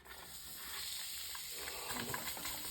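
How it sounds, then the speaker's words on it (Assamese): A gas stove burner hisses steadily as it is lit in a home kitchen, a faint continuous rushing with a few small clicks and rattles near the end, no talking. "মই গেছ জ্বলাইছিলোঁ গাইজ"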